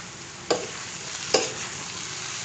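Chicken curry with green jackfruit fries in a pan as chopped tomatoes are added. Two sharp hissing bursts rise above a constant loud sizzle.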